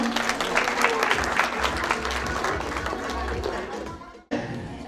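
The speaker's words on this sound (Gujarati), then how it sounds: "સો ચલો મયુર અને પૃથ્વીને અગેન તમે તાળીઓના ગડગડાટ સાથે વધાવી લો." Guests at a baby shower in Canada break into sustained applause welcoming a couple, a dense wash of clapping with murmured voices underneath that cuts off briefly near the end before resuming.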